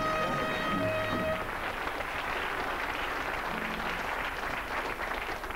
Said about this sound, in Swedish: Applåder till er.